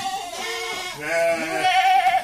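Goats on a farm bleat loudly and close by, one long wavering call followed by a second, louder one, with no talk over them.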